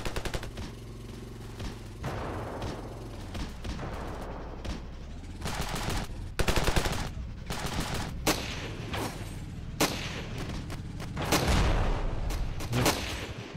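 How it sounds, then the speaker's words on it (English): Enemy gunfire in the Ravenfield video game: rapid bursts of rifle and machine-gun shots crackling loud and near, interleaved with sharp single cracks and heavier booms, with no talk over them. "The enemy's shooting at me."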